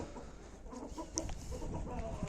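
Chickens let out into the open outdoors on a small poultry farm, soft scattered clucks and bird calls over a quiet background, fairly distant and faint, no speech.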